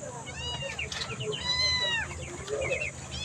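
Several cats meow repeatedly, some high and drawn out, close by, over a low background hum, on a backyard farm with rabbits and ducks.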